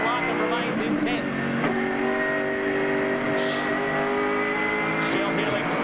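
A Ford Falcon touring car on the 1998 Australian Touring Car race at Lakeside Raceway, heard from an onboard camera: a continuous loud engine roar with shifting pitch as it revs through gears, under steady background noise.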